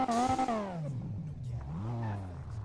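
Engine of a Dodge Viper in GTA 5 revs high and then falls, followed by a lower second rise in pitch, mid-distance and moderately loud with no talk over it.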